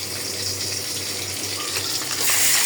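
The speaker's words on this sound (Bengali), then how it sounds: "পানি দিয়ে দিব।" Water pours into a pan of sautéed vegetables for a rui fish curry, a close, steady splashing gush that grows a little louder toward the end, with no voices.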